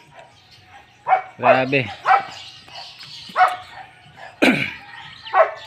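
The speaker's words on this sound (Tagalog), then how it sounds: "tahol ng aso" A dog barks repeatedly in short, irregular bursts close by, while a person speaks briefly between the barks.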